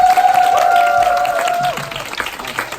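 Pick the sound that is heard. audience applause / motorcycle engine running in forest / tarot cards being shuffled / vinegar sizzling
audience applause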